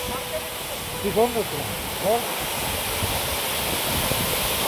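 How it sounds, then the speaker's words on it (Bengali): Moopun waterfall in East Jaintia Hills, Meghalaya, gives a constant broad rushing hiss of falling water over a sandy spot, steady throughout, with a few faint chirps on top. "এখান থেকে জলের ছাড়টা আসছে, কি সুন্দর।"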